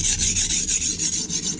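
Chef knife being sharpened on a Norton Crystolon combination oil stone, rapid rhythmic gritty rasping strokes, close and steady, about a dozen passes back and forth with no voice.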